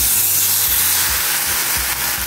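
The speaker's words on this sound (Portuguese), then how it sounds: "A frigideira tá extremamente quente. Aí agora eu vou colocar um bife desse." A beef steak searing in an extremely hot Tramontina frying pan, a loud, dense, continuous hiss and sizzle heard up close with no talk over it.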